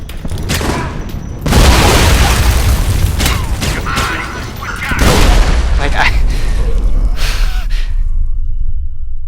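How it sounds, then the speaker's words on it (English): Heavy booming blasts from grenades in the video game Alpha Protocol hit loud and close, two big bursts with rumbling tails amid game clatter, while a man gasps and mutters. "the only thing I can do is throw grenades at him"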